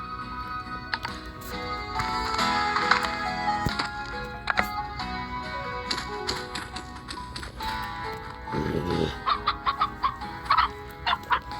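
Chickens cluck in a farming video game: short, bright clucks bunch up near the end over a steady bed of game music, with light tapping clicks scattered throughout.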